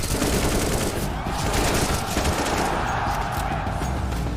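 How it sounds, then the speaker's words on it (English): Video game gunfire from the Counter-Strike 2 reveal trailer, a loud, continuous volley of rapid automatic shots with heavy booming impacts filling the short stretch. "Counter-Strike is known for its visceral and satisfying gunplay"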